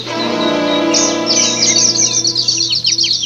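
Birds chirp and tweet in a radio drama sound effect, a rising chorus of quick, bright calls layered over a steady tonal hum, growing busier and more scattered toward the end, with no talking.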